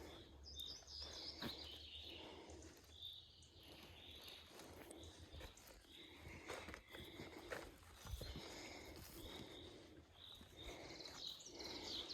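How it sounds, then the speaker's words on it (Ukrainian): Birds sing in a forest during a morning mushroom-scouting walk, with repeated faint chirps and tweets scattered over quiet rustling and footsteps, all at low volume. "Хай нам пташенятка співають у лісі."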